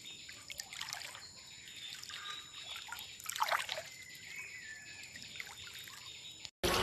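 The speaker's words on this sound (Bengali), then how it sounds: "কোনায় পানির স্রোত দেখেন স্রোত" Floodwater current flows and trickles steadily at a low level at the corner of a house by a banyan tree, with faint bird calls in the background and no talking.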